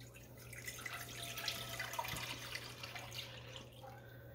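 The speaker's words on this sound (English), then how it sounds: "So I'm going to go ahead and pour this in this pan." Water and whole milk poured into a pan, a soft continuous liquid pour with faint splashing, fairly quiet, heard alone.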